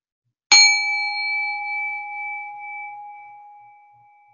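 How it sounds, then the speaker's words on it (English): One struck meditation bell rings out clearly and sustains a long, pure tone that slowly fades over several seconds. "I'm going to go ahead and ring the bell now to close out our sitting."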